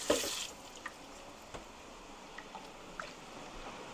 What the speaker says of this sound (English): Let me wash this bowl out a little.